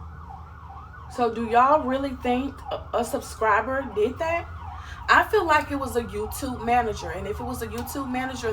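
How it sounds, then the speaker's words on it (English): An ambulance siren passes by as a wailing tone throughout, present under steady talk and growing louder toward the middle before easing off. "There was an ambulance going by."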